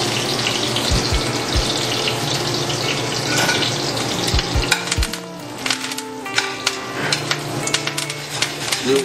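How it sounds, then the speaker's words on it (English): Fresh rosemary and thyme sprigs sizzle and hiss steadily in hot duck fat, a constant bright frying crackle with a few soft knocks and clicks from handling, no talking. "I'm going to infuse the fat with a little bit of fresh herbs. I got rosemary sprig here and the thyme sprig."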